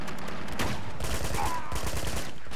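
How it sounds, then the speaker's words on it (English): Rapid bursts of gunfire in Uncharted 2, a loud fusillade of overlapping shots crackling throughout, with a brief voice in the mix. "going to shoot this guy here"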